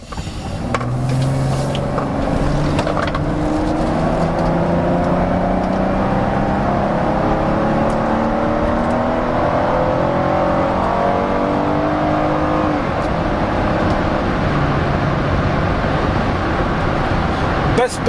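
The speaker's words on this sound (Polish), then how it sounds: "Bezproblemowe przyspieszenie" Chrysler Voyager 3.6 V6 minivan accelerating hard, engine tone climbing steadily through the gears with road and wind noise, heard from inside the cabin and sustained at a loud, even level.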